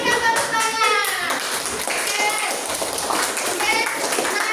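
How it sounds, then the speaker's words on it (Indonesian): Classroom children clap together in a dense, continuous round, close and lively, with young voices chattering and calling out over the clapping. "Oke, berikan tepuk tangan."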